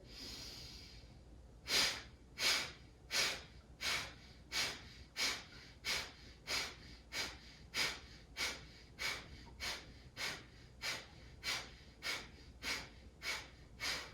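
A yoga practitioner does breath of fire, forceful rhythmic nasal exhales at about one per second after a short pause, heard close and steady, with no talking.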